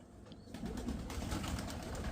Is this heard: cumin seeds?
no